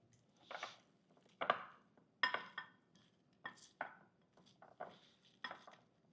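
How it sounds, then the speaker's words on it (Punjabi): A fork tosses a green salad dressed with oil, making soft, sparse clinks and scrapes against the bowl in irregular taps. The sounds are quiet and close, with no talk. "ਹੁਣ ਅਸੀਂ ਇਹਨੂੰ ਮਿਕਸ ਕਰ ਲੈਣਾ ਫੋਕ ਨਾਲ"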